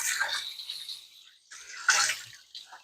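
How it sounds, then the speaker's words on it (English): Cold tap water runs into a kitchen sink over pork tenderloin being rinsed, coming in short splashy bursts with a brief pause between, close and fairly quiet. "We're going to rinse the meat. This is just cold water."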